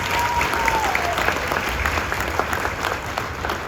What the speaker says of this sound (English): That alone deserves an applause for what you guys have done before.